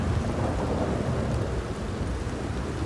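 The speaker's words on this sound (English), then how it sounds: "This is a hell of a downpour." Heavy rain hammers down with rolling thunder in the open-world western game Red Dead Redemption 2, a dense, loud, unbroken downpour with low rumbling underneath and no voices.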